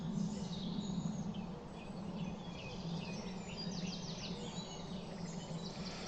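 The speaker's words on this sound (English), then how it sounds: "The picture won't capture the essence of the sound that I'm hearing, all the birds." Birds singing in the English countryside: a steady dawn-chorus-like layer of chirps and trills over a constant low outdoor rumble, moderately distant and with no talking.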